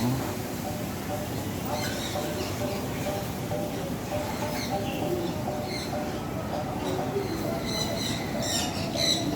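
Birds chirp and call inside a biodome at an ocean park in Manila. The calls are faint, scattered and intermittent over steady ambient noise, and people talk nearby.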